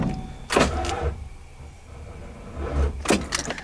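A truck's power window motor whirs briefly as the window rolls up, pauses, then runs again, with faint mechanical clunks and a low idle hum underneath.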